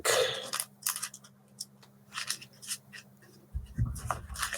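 A Magic: The Gathering deck of playing cards is shuffled at a Commander game table, giving several quick riffling, rustling bursts close by separated by short pauses.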